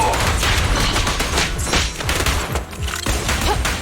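Dense sustained gunfire from Zenless Zone Zero during a police standoff: rapid overlapping shots and heavy thumps fill the whole stretch, loud and close, with a few faint voices under the barrage.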